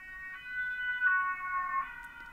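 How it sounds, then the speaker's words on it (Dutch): An emergency vehicle siren wails in the distance in Amsterdam, its rising and falling tone carrying on faintly and alone. "je hoort regelmatig in mijn vlogs sirenes, want ze rijden nogal wat af hier in Amsterdam."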